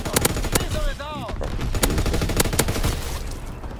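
Gunfire in a World War II video game, dense rapid machine-gun bursts and rifle shots crackling continuously, loud and close with a brief whistling effect partway through.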